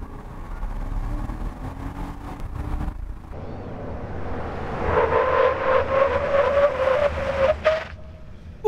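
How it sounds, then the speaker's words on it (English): A GMC Sierra 1500 pickup on stock brake pads and rotors accelerates hard. Its engine climbs in a rising whine and then tapers off as the truck brakes to a stop. The sound is steady and fairly close, with a brief tire scrub near the end. "here we are setting off in the Sierra with the stock brakes"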